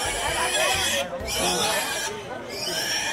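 Pigs in the pig section of the Nabilog stockyard in Aklan grunt and squeal in a noisy pen, nearby and continuous, with a person talking over them.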